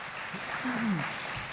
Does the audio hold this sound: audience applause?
yes